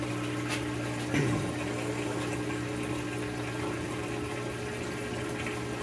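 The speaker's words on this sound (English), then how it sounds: "I can fill up this tub more easily or quickly than I could with the other machine" A Whirlpool CAE2795FQ commercial washer fills its tub with water, a steady rushing hiss and flow, with a small knock near the start, continuing evenly with no talking.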